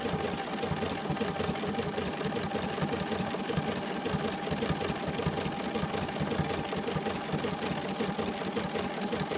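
A sewing machine stitches a quilt block in one steady, loud run of fast, even needle clatter, continuous throughout with no voices.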